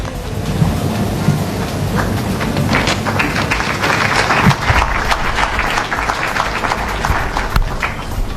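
Audience applause at a political talk on the Congo crisis, a steady dense wash of clapping running throughout at an even level, with no voices standing out.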